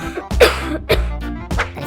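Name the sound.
coughing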